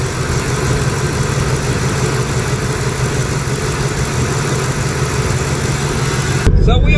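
A Jeep Cherokee engine runs steadily with a low, even drone during a test drive, loud and continuous, shifting abruptly near the end.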